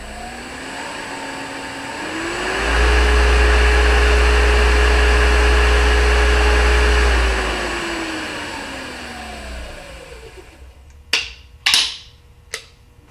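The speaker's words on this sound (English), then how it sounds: "So that Baldar motor back there, nice and quiet" A Baldor electric motor driving a 7x72 belt grinder spins up, hums steadily and smoothly at a quiet, even pitch, then winds down as power is cut, followed by a few sharp clicks near the end.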